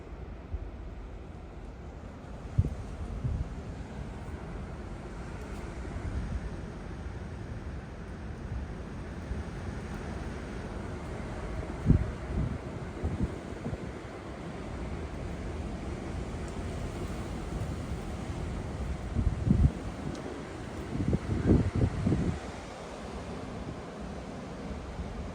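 Blizzard wind in whiteout conditions in Nebraska, a continuous low rushing roar with gusty buffeting bursts against the microphone, steady throughout.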